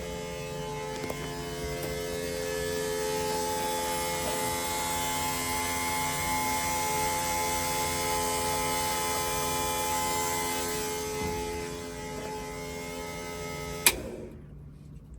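Fuel pump priming the surge tank on a Nissan 200SX S13 pro drift build with a 1UZ engine: a steady electric hum runs for about fourteen seconds, then cuts off abruptly. No one talks.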